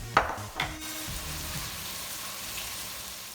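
Garlic sautéing with vegetables in a soup pot, with a couple of sharp stirring clatters at the start followed by a soft, steady sizzle that fades into a quiet hiss.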